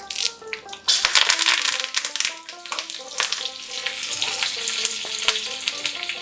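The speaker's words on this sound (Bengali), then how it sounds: "1 টেবিল স্পুন ঘি, 4টে কাঁচা লঙ্কা আর একটা কারি পাতার ডাল দিচ্ছি।" Ghee sizzles loudly as four green chillies and a sprig of curry leaves hit the hot pan for tempering, crackling and spitting up close and then settling into a steadier fry.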